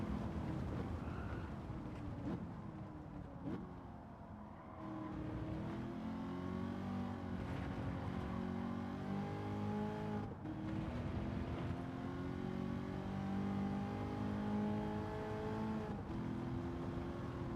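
Race car engine in a racing video game holds a steady, continuous drone with shifting pitch as it revs through gears, a brief dip in loudness near the start, then sustained loud engine noise throughout.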